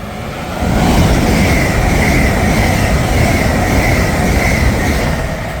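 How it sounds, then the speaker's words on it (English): An Avanti West Coast Class 807 train running from Liverpool Lime Street to London Euston roars through Berkhamsted station at speed, a loud, sustained rumble of wheels and carriages with a faint squeal riding on top. "now passing through now is an Advanced West Coast Stars 807 running from Liverpool Lime Street to London Euston"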